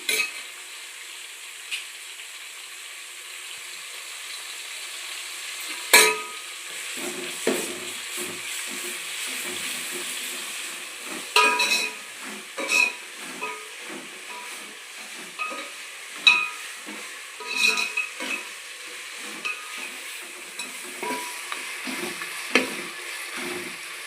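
Ginger-garlic paste frying in a pan with tomatoes for chicken pulao, a steady hissing sizzle with intermittent clanks and scrapes of a stirring spoon, close and fairly loud, no speech.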